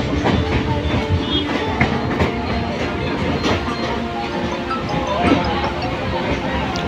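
A Konkan Railway train runs with a steady rumble and rhythmic clickety-clack of wheels over rail joints, close and continuous, with faint voices murmuring underneath.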